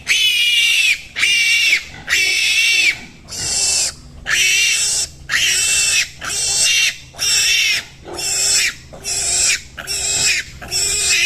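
A pig being castrated squeals loudly and close by, about ten piercing, shrill cries in a regular rhythm, each broken by short gasping pauses.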